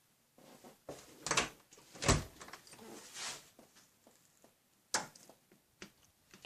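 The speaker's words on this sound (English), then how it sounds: "And door slams." Several sharp thuds and clacks of a door being shut and knocked, irregular and fairly close, with quieter rattles and clicks between the louder hits.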